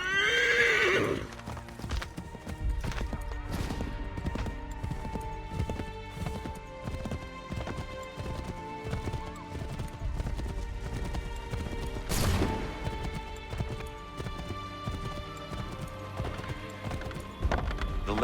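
Horse in Assassin's Creed 3 gallops with rhythmic hoofbeats and whinnies loudly near the start, running on under game music, with a sharp crash partway through.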